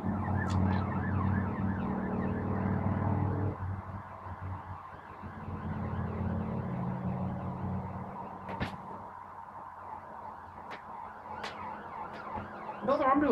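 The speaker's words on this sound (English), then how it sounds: "Another ambulance." An ambulance siren wails in repeating cycles as it passes, loud at first, then fading and lingering in the background with a few sharp clicks.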